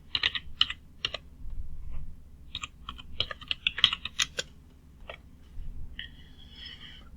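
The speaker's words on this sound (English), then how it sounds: "And we can just type it in." Typing on a computer keyboard in quick bursts of crisp, close key clicks with short pauses, ending in a slightly different click, quiet and with no talking.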